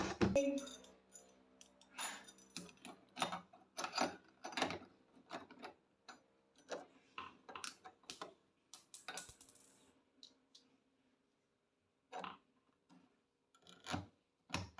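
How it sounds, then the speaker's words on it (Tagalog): A door knob cover is being screwed on by hand, giving a run of small metallic clicks, ticks and scraping turns in quick irregular bursts, close and fairly quiet, with short pauses between and no speech. "lagyan na natin ng tornilyo mga kamix para humigpit na siya"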